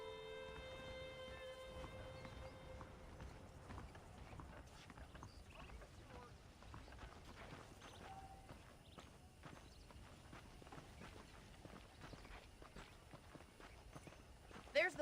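Horse hooves clip-clopping in the Western video game Red Dead Redemption, a quiet, irregular series of hoof thuds against background game ambience, with a faint tone and a few louder knocks near the end.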